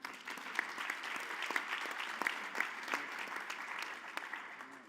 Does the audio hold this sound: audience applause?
yes